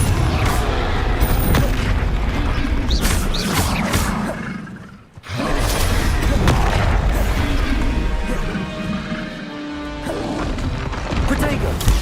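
Confringo fire spell blasts in the video game Hogwarts Legacy, loud booming crashes and bursts in a dense, continuous battle soundscape. A short near-silent gap falls midway, then the din resumes.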